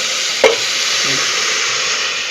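Loud, even sizzling of shukto vegetables in a pan, close up, with one sharp clink just before the half-second mark and soft crackle continuing after.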